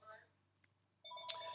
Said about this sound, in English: Sorry, my phone's ringing in the background.